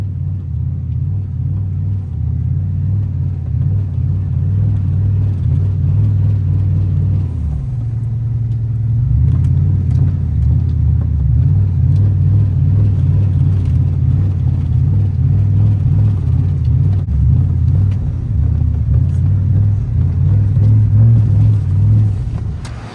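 Turbocharged Chevrolet Silverado pickup in four-wheel drive doing burnouts in snow, a steady loud low engine drone that dips briefly around the middle and then holds high revs to the end, with no talk.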